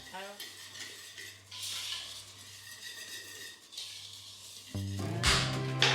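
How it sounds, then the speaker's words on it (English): Dry cake batter ingredients (flour, baking powder, salt, espresso powder) being whisked together in a bowl, a steady clattering scrape of metal against the bowl that grows louder in bursts toward the end. "she's just gonna whisk everything together"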